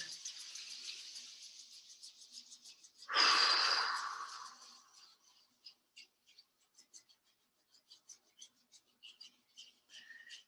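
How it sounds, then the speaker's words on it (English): Slow, audible breathing during a self-massage routine, with a loud breathy exhale or rubbing swell near the middle, then quiet soft breaths and faint chirp-like sounds after. "Rubbing the palms together, breathing."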